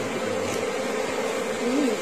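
Bees hum in a steady, low, continuous drone, moderately faint and even throughout, with no voices over the buzzing.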